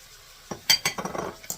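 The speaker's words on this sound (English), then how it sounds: "I'm going to scramble those eggs as soon as they're able to be turned" Eggs being scrambled with vegetables in a pan for onion beef fried rice: a quick run of sharp utensil clinks and scrapes against the pan, close and distinct, with no talking.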